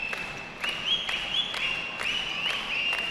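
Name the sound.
Dan, a fan, whistling in the gym to fire up the crowd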